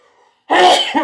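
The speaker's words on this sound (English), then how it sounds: "Every time I cough like that, I get something on my throat." A single harsh, close cough bursts out of near silence, loud and abrupt, trailing into a short second rasp.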